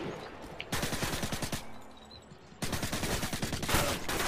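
A UMP submachine gun fires in the video game Modern Warfare 2: two long, loud, rapid bursts of full-auto fire, separated by a short quiet gap.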